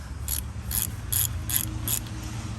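A ratchet wrench loosens a 13 millimeter drain plug bolt on a Ford Escape during an oil change, with five crisp clicking bursts in an even rhythm, close and alone over a low background hum.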